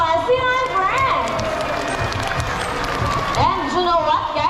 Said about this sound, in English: How about a round of applause for our sea lion friends?